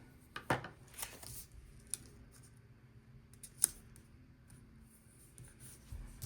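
Scissors trimming a paper planner sticker at a desk, a few quiet, close snips and paper rustles scattered over several seconds without speech.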